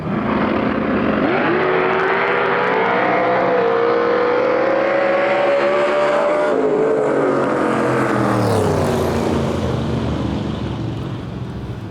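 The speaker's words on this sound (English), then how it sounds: "we have a white S10 going against a white S10" Two nitrous big-block Chevy S10 trucks roar down a drag strip, a loud continuous engine wail rising in pitch through the run, then easing off as they pass into the distance.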